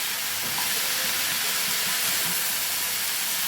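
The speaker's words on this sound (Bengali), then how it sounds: "সব শাকটাই এর মধ্যে দিয়ে দিলাম।" Fenugreek greens sizzle loudly in a hot pan, a steady, dense hiss that stays constant and close throughout with no talking.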